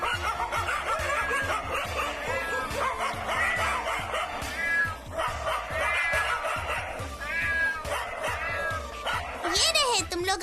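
Several cartoon dogs bark and yip in quick bursts, with whining and a cat-like cry mixed in, while voices talk in Hindi over the animal noise in an animated children's show.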